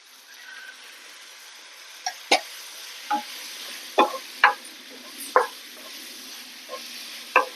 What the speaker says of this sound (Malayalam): എല്ലാം നമ്മൾ നല്ല ഇളക്കി യോജിപ്പിക്കുക